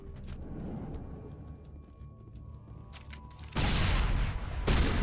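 A grenade explodes in a video game: a sudden loud, broad blast bursts out over quieter background game noise, followed by a second heavy burst moments later.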